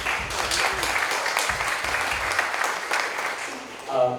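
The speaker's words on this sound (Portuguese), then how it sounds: "Aplausos." An audience applauds at a presentation event, steady crowd clapping with low murmuring voices beneath, fading toward the end as a speaker begins.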